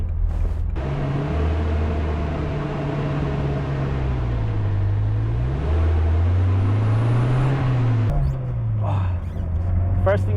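A stock Toyota AE86 engine drives steadily through fog, a low, continuous drone with shifting pitch that rises and falls over about ten seconds, holding a loud, even level throughout.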